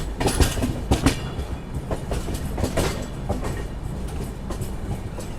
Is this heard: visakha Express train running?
yes